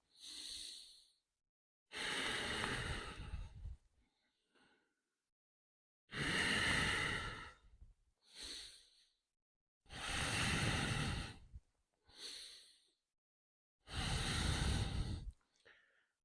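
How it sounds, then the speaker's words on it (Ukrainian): Deep, rhythmic breaths during a Ukrainian armed forces health workout routine, four long loud exhalation bursts with short gaps and softer intakes between, alone without talk. "І поїхали дихаємо."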